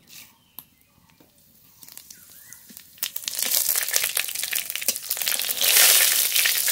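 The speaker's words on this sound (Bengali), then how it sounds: "পাঁচফোড়ন ফোড়ন" Bay leaf and panch phoron spices hit hot mustard oil in a kadai, starting with a few faint crackles and then building into a loud, dense sizzle and spitting.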